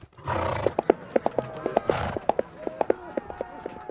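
A horse neighs and whinnies while hooves clip-clop in an uneven run, loud and close, a stock effect placed in a French audiobook of a medieval tale as a Templar wheels his mount around.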